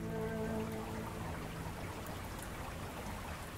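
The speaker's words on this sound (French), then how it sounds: "Pluie de printemps." Spring rain in a radio drama adaptation, a dense, steady patter of falling drops that fills the whole stretch evenly, with a brief low tonal hum early on and no voices.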